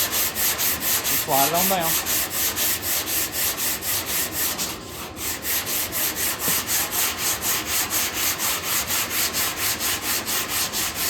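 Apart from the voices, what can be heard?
block sanding a truck tailgate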